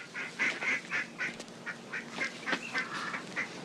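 Ducks quacking in a rhythmic series of about a dozen nasal calls, fairly close and clear over a quiet background with no talk.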